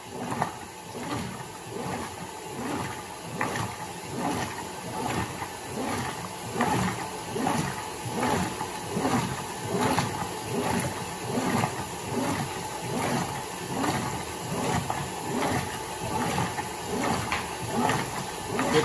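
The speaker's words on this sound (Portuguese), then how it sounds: "na hora que ela já atingiu um certo nível da água, ela começa a agitar enquanto enche" A Brastemp 15 kg top-load washing machine (BWH15) washing jeans and sweatshirts, agitating as it fills with water: a steady rhythmic churning and sloshing, regular pulses close up, with no voices.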